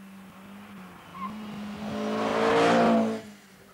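A 1976 fiberglass Ferrari 308 GTB with its V8 engine drives past, the engine note rising steadily as it approaches, peaking loud close by, then dropping away as it leaves.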